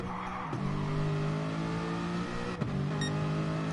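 A McLaren and an Aston Martin GT race car in a sim racing championship hold a steady, loud engine drone with brief dips at two gear shifts, with no voices.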